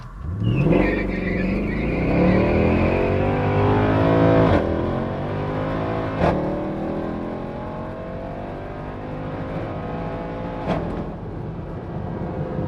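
A high-mileage Mercedes C63 AMG launches hard at a drag strip, its V8 roaring and climbing through loud, rising revs with brief gear-change breaks, the sound sustained and close throughout.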